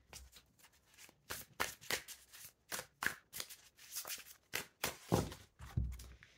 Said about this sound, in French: On va continuer à mélanger.